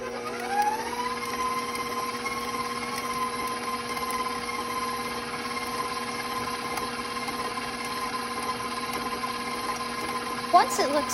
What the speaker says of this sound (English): That means putting my butter in the mixer and letting it mix until it loosens